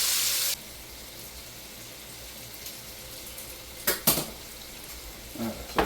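Meatballs frying in a pan and being turned over, a loud sizzle at the start that drops to a softer steady fry, then a few sharp scrapes and clinks of a utensil rolling them.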